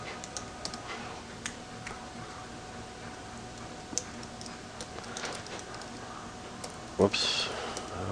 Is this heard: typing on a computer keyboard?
yes